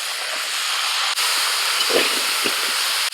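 Carrots and peas tipped into a hot pot for a Bengali festive dish, giving a steady broadband sizzle and hiss that holds throughout, loud and close, with brief stirring knocks and no talk.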